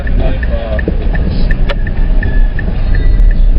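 A manual-transmission car's engine runs with a loud, steady low rumble, heard from inside the vehicle, with a faint regular ticking repeating throughout.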